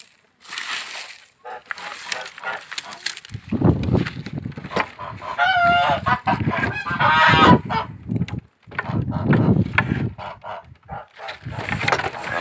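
Domestic geese in a rural yard honk loudly and repeatedly in overlapping bursts, with a person talking intermittently nearby.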